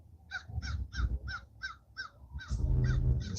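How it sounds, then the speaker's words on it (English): A crow gives a steady run of about ten clear caws in quick, even succession, with low rumbling background noise that swells toward the end. "That's a regular bird call."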